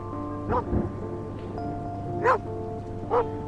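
A scared dog in the video game Where the Heart Leads gives about four short, separate barks over a steady tonal game soundtrack, moderately loud and close.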